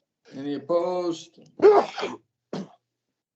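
A single short sneeze bursts out during a remote committee meeting, coming between spoken words, with a brief further vocal sound after it.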